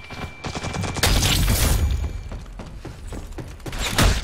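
Grenade blasts in the Ghost in the Shell video game: a cluster of sharp booms and crackling detonations, one heavy burst followed by several smaller thuds and bangs, loud and close with no voices.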